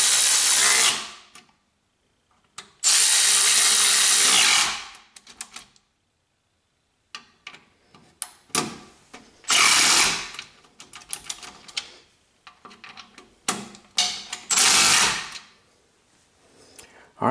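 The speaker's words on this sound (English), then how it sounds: "once your bolts are started, we'll just tighten them down" A power tool drives bolts on a Rocky Mounts two-bike guiderail platform hitch rack, sounding in several loud, close bursts of whirring and ratcheting, with pauses, small clicks and handling noises in between.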